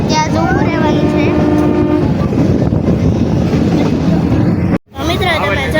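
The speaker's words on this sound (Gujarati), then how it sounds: "આગળ જે સ્ટેશન આવ્યું છે એટલા માટે ગાડી સ્લો થઈ ગઈ છે" A Sasan Gir meter gauge train slows through the forest near a station, with steady rumbling and clickety-clack and a horn blast early on. People talk throughout over the loud onboard noise.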